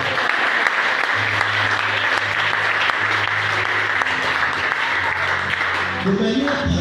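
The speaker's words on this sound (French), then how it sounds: "Est-ce qu'on va applaudir pour Jésus-Christ?" An audience at a church teaching service claps loudly and steadily for several seconds, a dense wash of applause that starts to fade near the end.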